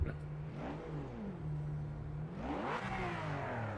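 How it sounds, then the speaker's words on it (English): Race car engine in the Project Motor Racing game revs in neutral, two rising and falling surges of a mid-pitched engine note heard close and alone, fairly quiet overall. "we're going forward from revving it in neutral"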